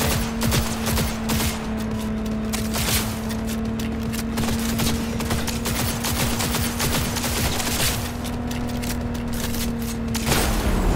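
Player's gun firing in Cyberpunk 2077, rapid bursts of loud gunshots repeating throughout over a steady tonal game hum, with sharper cracks near the start and end.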